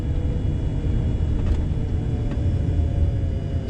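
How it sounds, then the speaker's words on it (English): A car drives a country road near the Oregon coast, a steady loud engine and road rumble filling the cabin, with a couple of faint knocks from the uneven surface and no talk. "so I just took a little drive into the countryside"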